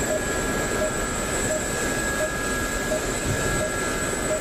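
Steady drone of an IA-58 Pucara light attack aircraft's engines in a DCS combat flight simulation, a constant broadband roar with faint tonal hums running evenly throughout.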